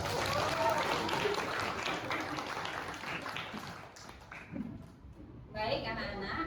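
Classroom applause from a group of students clapping for a classmate, a dense, steady patter filling the room with some talk mixed in, then thinning out near the end before briefly swelling again.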